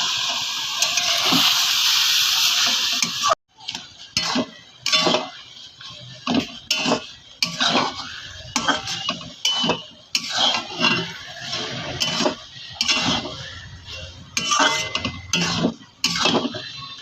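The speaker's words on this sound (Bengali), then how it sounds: "এবার ঢাকনাটা খুলে দেখছি যে হচ্ছে নাকি।" A metal lid is lifted from a pot of kochu shak cooking with prawns. A steady sizzling hiss gives way to a run of close clinks and knocks of metal against the pot.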